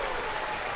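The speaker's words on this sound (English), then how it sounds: "The crowd loving it here at Hart Health Park" A stadium crowd applauds at a Sacramento Republic FC soccer match at Hart Health Park, a brief, dense wash of clapping and cheering filling the air.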